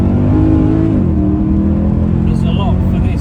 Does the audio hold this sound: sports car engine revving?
yes